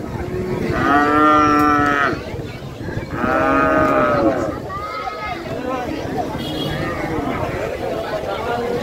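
Cattle at a busy cow and goat market moo loudly and nearby in two long calls, then give shorter, fainter lows, over crowd chatter and background talk.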